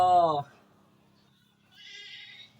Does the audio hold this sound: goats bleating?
yes